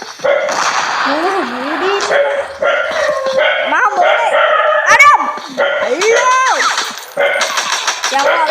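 A dog barks in sharp, repeated bursts mixed with excited voices and other clatter, loud and close, in a lively, busy scene.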